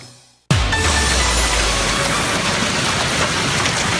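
Hail pours down in Nederland, Texas, a dense, steady roar of pellets striking surfaces that begins abruptly after a brief quiet moment and continues loudly without pause.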